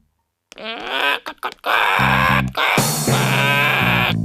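A human voice makes a burst of comic animal calls, gobbling and bleating in short, warbling spurts, imitating a turkey up close.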